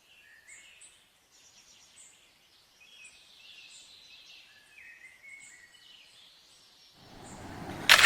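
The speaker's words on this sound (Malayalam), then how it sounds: "കിളികളുടെ ശബ്ദം, വെള്ളച്ചാട്ടത്തിൻ്റെ ശബ്ദം," Birds chirp and twitter at a quiet pond among Valparai tea plantations, a scatter of faint, high calls against near silence, until a loud rush of wind-like noise swells at the very end.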